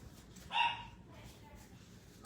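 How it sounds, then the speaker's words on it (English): A single short dog bark rings out over quiet background noise, fading quickly. "Oh yeah, they're going to, that's what they're barking at, Presley."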